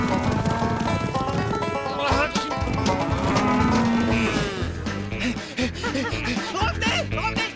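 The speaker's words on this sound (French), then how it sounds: "qu'est-ce qu'elle dit, la vache? Elle réclame sa liberté, Bernie." A cow moos loudly over a busy backdrop of music and farm noise, with hoofbeats and other animal sounds mixed in.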